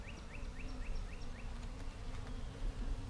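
Honey bees buzzing at an open hive during an inspection, a close steady droning hum with a few sharper rising buzzes of individual bees passing near.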